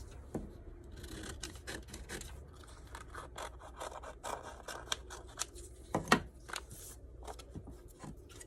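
Scissors snip through a paper sewing pattern for an empire-waist dress, cutting along a curved line in a steady run of short, soft rasping cuts close by, with a sharper snip near the end and no talking.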